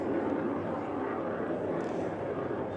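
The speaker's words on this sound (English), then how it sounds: "That's a jet right outside the NIS and Oceana base." Jet aircraft passing overhead near Naval Air Station Oceana in Virginia Beach, a steady broad engine roar filling the whole clip at moderate distance, with no clear voices over it.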